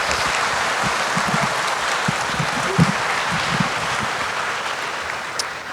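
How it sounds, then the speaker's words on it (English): Audience applause at a school convocation ceremony, close and fairly loud, a continuous patter of many hands with a few sharper individual claps standing out before it starts to thin near the end. "Let's give them another round of applause."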